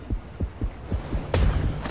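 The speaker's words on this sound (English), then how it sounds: "It's so dark and then you hear the heartbeat." Heartbeat in the dark underwater video game Depth, a slow, regular low thumping of about six beats that grows heavier and louder toward the end.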